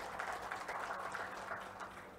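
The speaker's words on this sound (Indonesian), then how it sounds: "Wih, tepuk tangan tuh." A seated audience at a Central Java community association gathering breaks into brief, steady applause that carries on evenly before tapering slightly.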